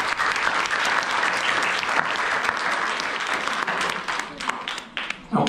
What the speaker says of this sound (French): on pouvait commencer déjà cette cérémonie en vous applaudissant les uns les autres